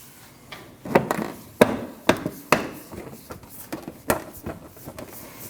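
A rear bumper impact absorber on a 2013-2019 Ford Escape is pressed into place, giving a series of sharp plastic snaps and knocks, about eight clicks at irregular intervals, close and without talk.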